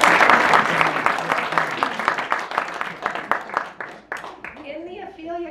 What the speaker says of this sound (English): I think we need applause.